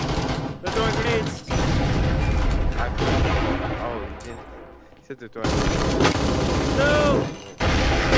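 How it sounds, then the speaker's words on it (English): Heavy gunfire and grenade explosions in a first-person shooter battle, forming a loud, dense barrage with booming blasts and brief drops, while a player shouts over the din. "They're throwing grenades."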